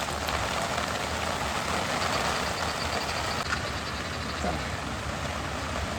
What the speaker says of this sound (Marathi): आला जोरात पाऊस.